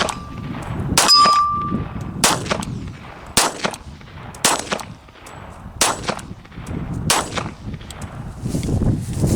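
A CMP Service Grade 1911 pistol fires about seven separate rounds at an uneven pace, each a sharp, loud crack with a metallic ring, spaced roughly a second apart.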